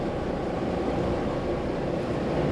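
An old mechanical diesel engine idling smoothly at around 600 RPM on a boat, a steady low rumble that runs evenly throughout with no talk.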